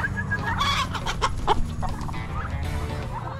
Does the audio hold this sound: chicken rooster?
yes